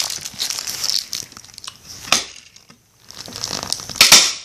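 A heart-shaped Christmas snack being cut, heard as crisp crunching and crinkling cuts in short bursts, close and fairly loud, with a quiet pause in the middle and a sharp crackle at the end.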